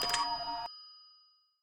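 A horror video game telephone is picked up: a brief, bright chiming burst with ringing tones lasting under a second, then a clean fading tail into silence.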